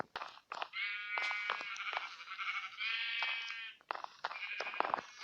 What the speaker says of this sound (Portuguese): Aqui, eu vou colocar uma ovelha